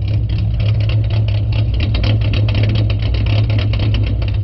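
Close, loud idle of a V6 Mustang fitted with an idle chop mod, a steady low rumble carrying a fast, choppy lope throughout with no talk.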